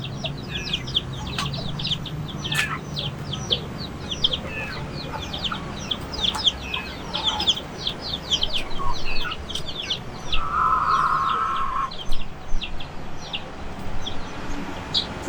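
Chickens and many chicks cluck and peep together at a Vietnamese Ganoi Don farm in Aizawl, with a steady chorus of close, high chirps and lower clucks throughout.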